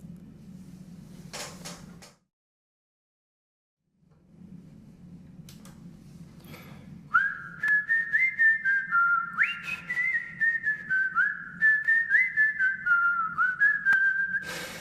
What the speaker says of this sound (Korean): 이 소리입니다. 여러분, 이 휘파람 다 아시죠